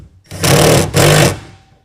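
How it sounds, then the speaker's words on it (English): A 1/2 inch ratchet tightens a tonneau cover rail clamp on a 2022 Toyota Tundra, two loud, close bursts of rapid buzzing clicks separated by a short pause. "tighten that down using a 1/2 inch ratchet or"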